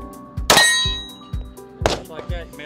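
Staccato 2011 pistol shots strike steel targets at a shooting expo: two loud ringing clangs with long metallic decay, amid distant repeated thumps of other gunfire.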